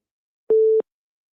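A telephone busy tone comes through on a radio call-in line, a single short, loud, pure beep starting and stopping abruptly in otherwise silent air.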